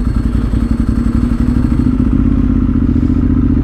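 Superbike motorcycle engine rumbling loudly and steadily nearby, a deep continuous throb with some clatter and thuds mixed in, no talking over it.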